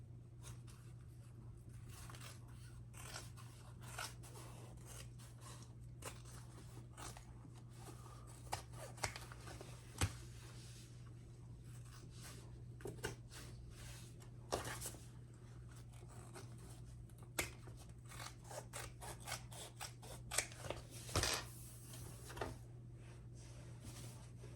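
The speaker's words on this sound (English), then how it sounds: "now trim your seams a little bit" Scissors trim the seams of a sewn fabric pouch, giving a long run of quiet, irregular snips and clicks over a steady low hum, with no talking.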